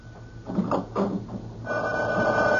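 A telephone rings as a sound effect in a tense radio mystery drama, a steady electric bell tone that keeps ringing under voices talking early on and then continues loud and alone to the end.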